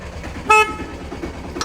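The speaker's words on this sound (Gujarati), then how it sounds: "હોરન ના મારો." A vehicle horn gives one short, clear toot near the listener over low outdoor background noise.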